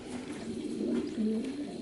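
Pigeons coo softly nearby, a couple of low throaty rolling calls over faint background noise.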